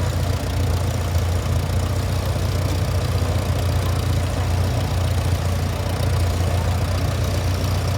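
An old farm tractor engine idles continuously at close range at a steam and gas show, its low, even chug unbroken throughout with no voices.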